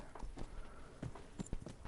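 Faint, uneven horse hoofbeats clip-clopping at a steady walking pace in the video game Kingdom Come: Deliverance, soft and somewhat distant against a low background.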